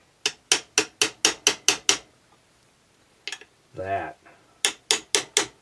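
Sharp metallic taps of a tool on a Honda CT70H engine: a quick run of eight evenly spaced strikes, a pause with a brief voice, then four more taps, close and loud.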